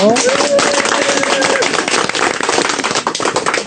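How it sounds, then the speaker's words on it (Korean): A burst of clapping and cheering from a church congregation, loud and dense throughout, with a voice briefly audible at the start. "박수 한번 보낼까요?"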